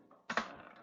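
A single quick cluster of computer keyboard keystrokes, close and faint, lasting well under a second against near silence.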